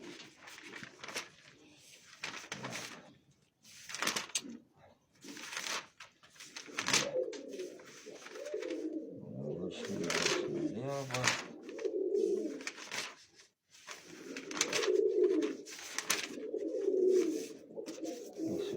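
Pigeons, including pure white and two-year-old birds, coo in repeated low throaty phrases close by while someone talks over them for most of the stretch.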